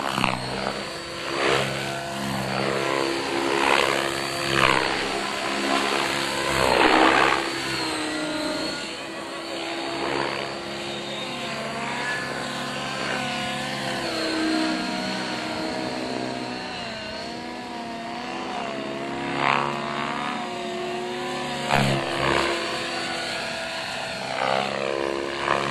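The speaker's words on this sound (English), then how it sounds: "During the auto rotation, the tail motor will remain at the same speed as it was during flight" An RC 3D helicopter flies with its tail motor spinning, a continuous whirring drone that rises and falls in pitch as it maneuvers, fairly distant and with no talk.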